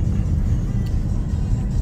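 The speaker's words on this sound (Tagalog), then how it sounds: "nagdikit ang mga sasakyan" Cars stopped in traffic at a traffic light give a steady low engine rumble and idling hum, close and continuous throughout.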